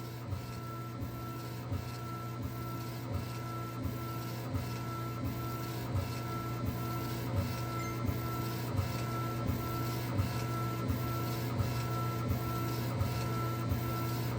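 A laser engraver working on a 40oz tumbler, a Stanley-style cup, gives off a steady mechanical hum with soft regular ticks that keep a continuous rhythm throughout, and no one speaks.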